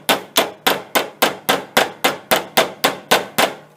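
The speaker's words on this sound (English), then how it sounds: "You can take the normal flat side of the ball peen hammer and work the brass around" A ball peen hammer strikes brass in a fast, even series of about thirteen sharp, ringing blows while forming a transmission shift lever bushing, close and loud with no talking.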